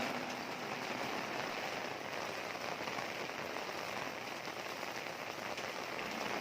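Heavy rain pours steadily onto the ground and trees in a Gujarati village, a dense continuous hiss with no voices, close and loud throughout.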